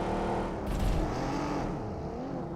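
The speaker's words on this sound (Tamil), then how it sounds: "லெஃப்ட்ல தான் வண்டி சத்தம் கேட்ட மாதிரி இருந்துச்சு" A vehicle engine in the PUBG video game drones loudly and continuously, a steady motor roar with a brief rise in pitch partway through and no pauses.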